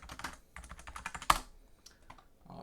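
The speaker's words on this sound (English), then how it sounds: "administrator, hopefully I can type it in" Quick, irregular key presses on a computer keyboard as an administrator password is typed, close and fairly quiet, with one sharper louder keystroke midway and a short pause near the end.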